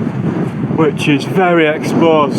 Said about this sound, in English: It's actually quite windy now